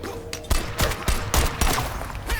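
Enemies exploding in the video game Strider, a rapid run of punchy, crackling bursts about every quarter second over steady game noise and music.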